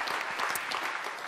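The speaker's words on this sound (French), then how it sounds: "on vous applaudit rapidement" A conference audience claps briefly for a speaker, a dense, even wash of many hands clapping at moderate volume throughout.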